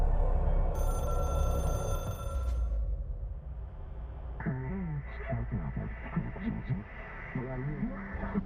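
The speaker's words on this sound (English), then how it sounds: "Yay, phone!" A telephone rings in the video game Control, a bright, buzzy ring lasting about two seconds over low ambient rumble, then fading as a voice begins talking.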